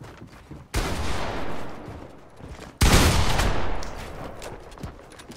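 A gun in a Roblox game fires two loud, heavy blasts a couple of seconds apart, each trailing off into a long rumbling decay.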